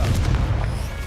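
A Confringo blasting spell bursts in a Hogwarts Legacy duel, a single deep, loud boom that rolls on with low rumble through the brief moment.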